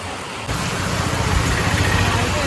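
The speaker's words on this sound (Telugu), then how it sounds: "వర్షం ఫుల్ వర్షం అయితే బాగా వస్తుందండి ఇక్కడ." Heavy rain pours down in a steady, loud, hissing roar that starts suddenly and continues unbroken, with no voices over it.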